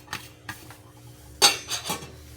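A spoon stirs a basic soup in a cooking pot, making a few sharp metallic scrapes and clinks against the pot in an uneven rhythm, close and fairly loud.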